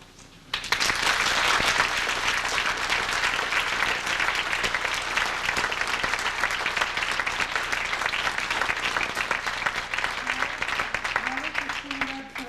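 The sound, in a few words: audience applause at gala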